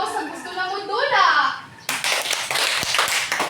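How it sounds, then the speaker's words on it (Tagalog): Children in a classroom break into a short burst of clapping right after someone speaks. The claps are close, crisp and many-handed, overlapping rather than counting out three clean beats. "Palakpak og tulo sa gusto na mo dula."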